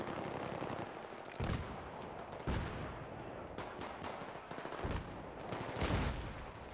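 Several loud shotgun blasts in Battlefield 3 multiplayer ring out at irregular intervals over a constant background rumble.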